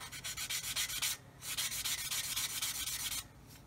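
A 400 grit sanding stick rubs lightly over a plastic part of a 1/35 scale Meng BUK model kit, a close, soft scratchy rasp in quick repeated strokes with a brief pause in the middle.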